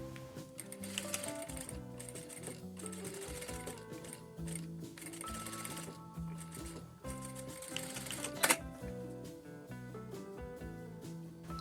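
A sewing machine stitching fabric runs steadily with a dense, rapid mechanical chatter over a quiet backing of music, with one sharp click near the end.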